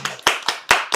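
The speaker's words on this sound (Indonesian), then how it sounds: "Tepuk tangan dulu, guys." A few people clap hands during a casual interview with a costume maker, giving roughly five sharp, close claps in a loose, uneven rhythm over about a second.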